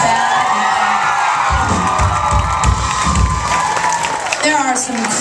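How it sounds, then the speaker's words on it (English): A concert crowd cheers, whoops and claps loudly for the bands, a close swell of shouting voices with some applause mixed in. "can we please give a round of applause for the bands that were before us?"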